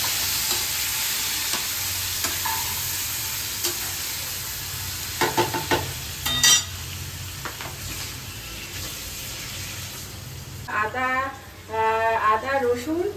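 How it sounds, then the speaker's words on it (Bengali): Chopped onion sizzles in hot oil under a steady frying hiss, with scattered scrapes of stirring and a few louder clacks, while a voice talks over it toward the end. "প্রথমে তেলটা গরম হয়ে গেছে, এই পেঁয়াজটা দিয়ে দিলাম"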